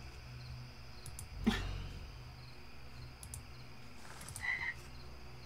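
Frog croaking in a horror video game, a low burst of croaks near the middle against a quiet ambient bed with faint chirps and small clicks.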